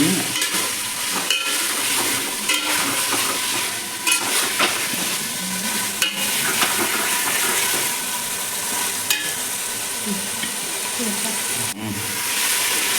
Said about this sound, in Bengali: আমি ভালোভাবে চিকেনটা কষাচ্ছি